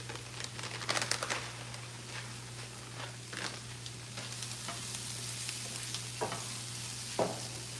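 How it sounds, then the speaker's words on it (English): Grits with cream, salt and cheddar cheese are stirred in a pot for shrimp and grits, making soft, irregular scraping and gloopy strokes against a quiet, steady background hum. "I'm just going to stir it because you want it to get like nice and creamy"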